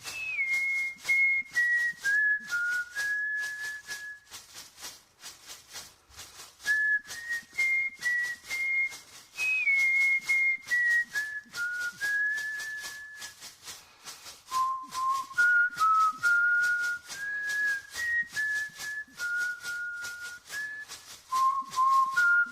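An icaro, a plant song from an ayahuasca ceremony, carried by a clear whistled melody of gently sliding phrases, rising and falling in steady repeated patterns over a soft rhythmic rustling or shaking background.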